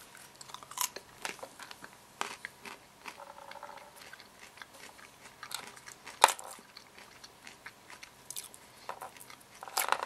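A fresh, still-moist walnut from an old tree is bitten and chewed close up, giving a string of sharp crunchy cracks and softer, irregular chewing squishes, with no one speaking.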